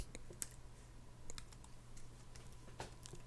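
A computer keyboard is typed on during play of the roguelike game Alfarogue, with scattered, quiet, close key clicks at an irregular rhythm over a faint low hum.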